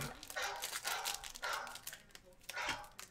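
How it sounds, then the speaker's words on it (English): A dog barks repeatedly in short bursts, fairly close and moderately loud, with a few yips and whimpers, heard indoors while trading cards are being opened. "Dog's barking."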